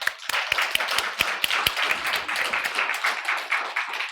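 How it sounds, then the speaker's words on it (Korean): A church congregation at a Sunday service claps together, with sharp, loud individual claps early on giving way to a denser, softer patter of many hands, no speech over it. "하나님께 박수 영광 올리겠습니다"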